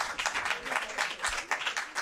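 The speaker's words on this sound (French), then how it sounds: "Beaucoup d'applaudissements pour Noubia, s'il vous plaît." Audience applauding for Noubia at a Cheikh Anta Diop Day 2019 gathering, steady clapping in pulsing surges of moderate loudness lasting throughout.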